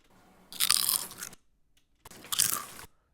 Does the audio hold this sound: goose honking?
no